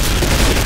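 Gunfire in the World War II shooter Day of Defeat: Source, a short, dense burst of close shots that fills the whole brief moment with no speech over it.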